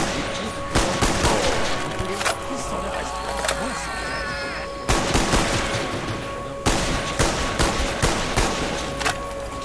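Rapid M14 rifle fire in the Shangri-la map of a shooter game, loud repeated sharp cracks in clusters across the span, over continuous game ambience.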